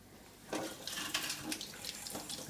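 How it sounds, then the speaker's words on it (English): Tap water starts running over a hot microwave-boiled egg at a kitchen sink, a faint, steady splashing stream with small irregular spatters. "You just got to run under some water for a little while."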